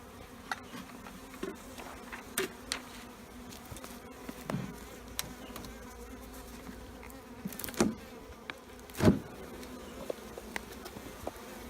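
Honey bees hum steadily around an opened hive during a varroa mite survey in Illinois, a low continuous drone broken by occasional sharp knocks and clicks as the boxes are handled.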